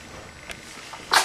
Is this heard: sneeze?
yes